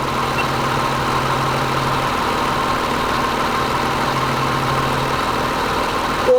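Car engine idling steadily after starting, a continuous even hum with a low rumble, close and constant throughout with no talking.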